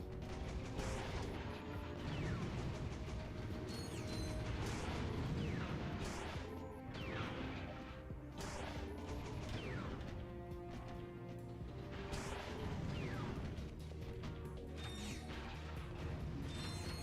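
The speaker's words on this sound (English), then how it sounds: "Is this an elevator?" Elevator machinery in Ratchet and Clank 2: Going Commando, a continuous loud mechanical grinding with creaks, clanks and ratcheting clatter throughout, layered with game sounds.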